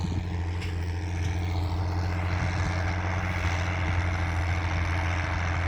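A Renault 145.14 TX tractor engine working under load with a Runner X3 farm implement drones continuously with a deep, steady low hum and rumble, close and constant, with no voices.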